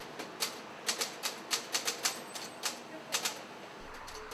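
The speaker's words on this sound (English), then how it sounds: "Almost every day, he pecks out a one-page newsletter on an old typewriter" Keys clack on an old manual typewriter in sharp, irregular strokes, about a dozen close, crisp hits with short pauses between them, against a quiet room background.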